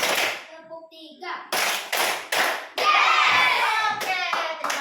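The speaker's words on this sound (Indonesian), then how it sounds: "Tepuk 1, tepuk 2, tepuk 3" A group of children in an Indonesian classroom clap hands in a counted pattern: separate sharp bursts of clapping separated by short pauses, interleaved with a voice, then a longer sustained burst of claps.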